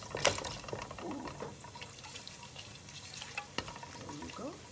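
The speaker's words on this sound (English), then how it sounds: "So I heated some oil. This is all my whole spices in there." Hot oil sizzles and crackles softly as whole spices fry for egg dum biryani, with light stirring and faint background noise.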